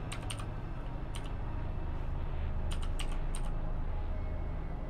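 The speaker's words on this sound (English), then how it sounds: "Let's try to type it." Keys tapped on a computer keyboard during an Elite Dangerous session, a few scattered short bursts of clicks over a steady low background hum, no talking.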